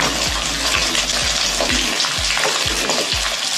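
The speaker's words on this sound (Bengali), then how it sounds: "ডিমগুলো লাল লাল করে ভেজে নেব বন্ধুরা" Eggs fried hard in hot oil for a home Bengali meal, a steady loud sizzle with repeated low thumps as the pieces are turned or stirred in the pan, with no voices.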